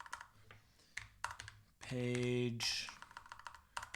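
Close, quick clicking of keys on a computer keyboard as a prompt is typed into ChatGPT, with a short spoken phrase breaking into the tapping midway.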